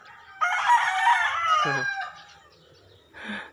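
Chickens on a backyard poultry yard cluck and a rooster lets out a full, loud crow close by, followed by a short squawk near the end, with no talk.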